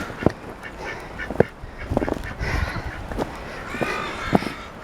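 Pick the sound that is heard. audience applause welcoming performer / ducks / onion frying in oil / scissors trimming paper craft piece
ducks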